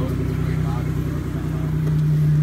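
Car engine idling steadily with a low, even rumble throughout, close by and continuous, with faint voices in the background.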